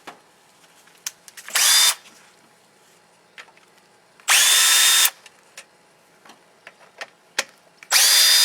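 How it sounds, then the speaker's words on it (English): A power tool spins out bolts holding a device on a fitting during a wire pull job, three loud whirring bursts of about a second each separated by clicks and handling knocks. "we want to go ahead and remove the two bolts that are still holding the device in place"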